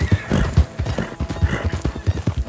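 Wild horses gallop across open country in Red Dead Redemption 2, their hooves drumming in a quick, steady clip-clop rhythm that stays close and loud throughout, with no talking.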